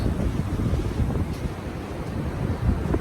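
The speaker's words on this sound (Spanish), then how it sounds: "entre eso, la cantidad de agua y sumado al viento, bueno, las olas que se pueden ver" Strong wind roars and buffets the microphone while ocean waves surge steadily during an extratropical cyclone in Santa Catarina, a loud, unbroken wash of noise.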